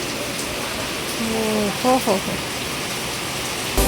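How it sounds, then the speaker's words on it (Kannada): Steady rain falls outdoors as a constant, even hiss, while a voice briefly exclaims partway through. "ಮಳೆ ನೋಡಿ ಗಾಯ್ಸ್"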